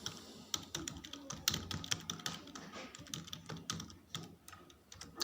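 Fast, steady typing on a computer keyboard while a database record is entered, a dense run of close clicks over a noisy room background, with no speech.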